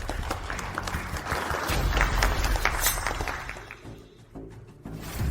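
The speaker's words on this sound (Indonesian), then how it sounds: "mari kita berikan tepuk tangan untuk grup Lin naik ke panggung" Audience applause as a group is welcomed onto a stage, a steady wash of clapping that swells and then thins out, moderately distant.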